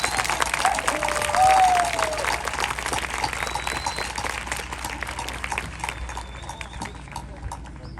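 An audience at a class of 2021 graduation ceremony gives a long, dense round of applause that peaks early and then tapers gradually, with a few faint whistles over the clapping.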